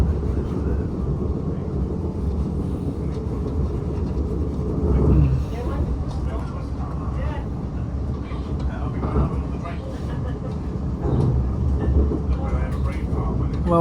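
A West Midlands Railway Cross City Line train slows as it pulls into Redditch station, giving a steady low rumble and rolling noise from inside the carriage, with talk going on over it.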